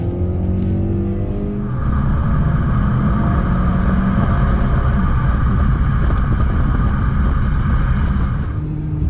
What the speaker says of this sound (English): Gain speed really well. Like here, foot down. Like, we're moving.